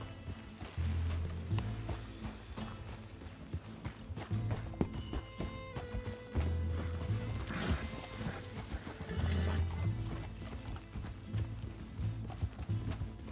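Horse hooves clopping at a steady riding pace in the video game Red Dead Redemption 2, a rhythmic muffled beat over outdoor ambience and quiet music.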